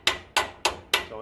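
Four sharp, ringing hammer blows on metal during forging at a steady, even pace, each strike bright and close with a short metallic ring.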